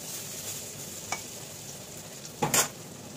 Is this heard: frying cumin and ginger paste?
yes